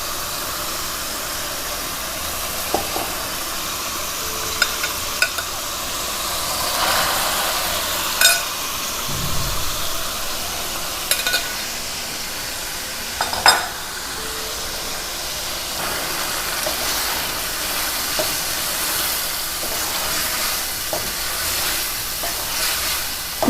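Goat liver cooks with masala in a pan, giving a steady airy sizzle and hiss, with occasional faint clinks and scrapes of stirring scattered through.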